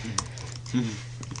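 Computer keyboard keys tapped in a few quick clicks, close and moderately loud, with a brief voice murmur and a low steady hum underneath.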